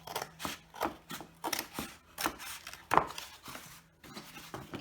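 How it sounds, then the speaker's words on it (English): Scissors cutting through the top of a cardboard egg carton, a series of crisp, close snips and crunches in an uneven rhythm, with soft handling rustles between cuts. "I have an egg carton here and I'm going to cut the top off."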